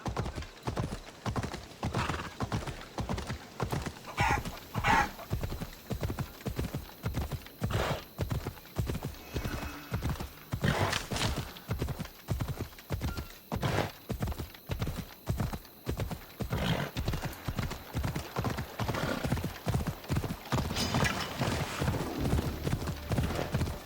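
Rhythmic horse hooves clip-clop steadily and evenly throughout in the video game Assassin's Creed Odyssey, close and clear, with occasional whinnies mixed in.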